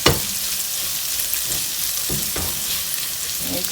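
Onions frying and caramelizing in a pan for a chickpea curry, a loud close, continuous hissing sizzle with a few brief stirring scrapes.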